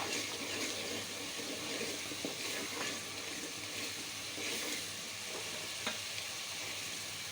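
Whole spices frying in oil in a pan for aloo palak, a steady broadband sizzle running throughout with occasional faint stirring clicks, close and continuous, no voices.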